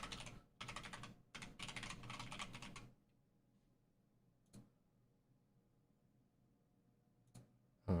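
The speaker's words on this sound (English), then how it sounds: "Oh, I forgot to type out a tweet." Fast typing on a computer keyboard clatters in quick, close bursts for about three seconds, then falls silent apart from a couple of isolated key clicks later on.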